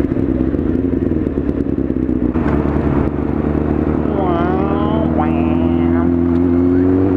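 A truck passing by, a loud low engine rumble and clatter that rises and shifts in pitch as it goes past, with a voice heard over it.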